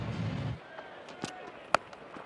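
A cricket bat strikes the ball cleanly in a professional match between London Spirit and Oval Invincibles in England: one sharp crack after a low rumble, with fainter crowd noise around it.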